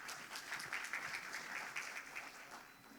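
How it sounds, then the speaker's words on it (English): Audience applause for small-business participants at a sustainability day technical session, a steady wash of many hands clapping at moderate distance for about three seconds with no talk over it. "So a big applause for everyone today."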